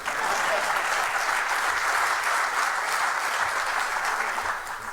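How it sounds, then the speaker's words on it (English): An audience claps for Chicago Mayor Lightfoot during a speech on affordable housing and ending poverty, a dense, loud, even burst of applause holding for five seconds. "you can clap for that"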